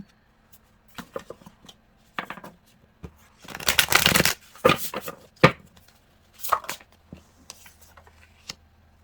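A tarot card deck being shuffled in bursts, with crisp riffling rattles and soft taps spread over several seconds, loudest in a dense flurry near the middle, close and alone without talk.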